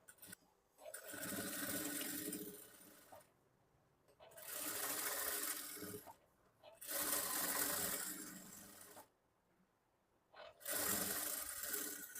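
A sewing machine stitches blouse fabric in four loud bursts of running, each a few seconds long with short pauses between, close by and steady.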